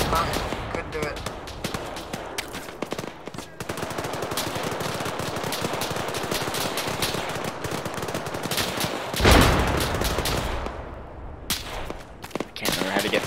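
Sustained automatic gunfire in an Arma 3 battle, bursts rattling steadily with a heavier blast near the middle, while players talk over the shooting.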